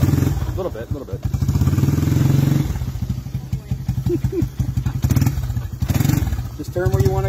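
A 1986 Yamaha YTM225DR three-wheeler engine revs up and down in uneven bursts, loud and close, with a voice speaking over the engine at times.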